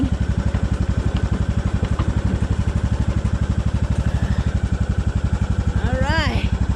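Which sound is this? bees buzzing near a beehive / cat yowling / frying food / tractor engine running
tractor engine running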